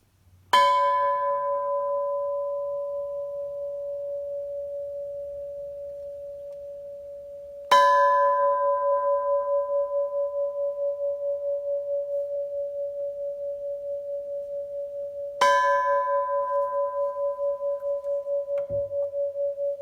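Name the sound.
gong struck at church service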